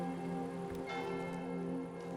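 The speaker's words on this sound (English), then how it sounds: "Oh, the bells are ringing." Church bells ring loudly and steadily in a sniper video game, their sustained tolling tones layered and continuous throughout with no talk over them.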